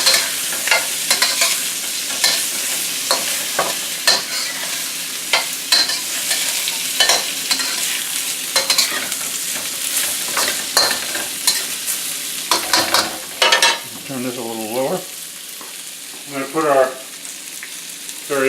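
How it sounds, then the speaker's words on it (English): Cabbage, carrots and chili stir-fry in hot oil, with a constant loud sizzle broken by repeated clattering scrapes and tosses of a utensil in the pan, close up and without speech. "Add in your cabbage. Carrots and your chili. A little bit more oil. Stir that around."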